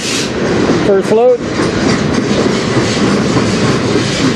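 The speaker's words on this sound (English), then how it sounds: "This train is about as mixed as you can get" A mixed freight train rolls past steadily on the Strathroy Subdivision near Sarnia, its wheels clacking over the rail joints, with a brief squeal and a few words of talk near the start.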